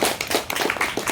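A Toastmasters audience claps at a club meeting, a brief burst of close, rapid hand claps with no clear cheering.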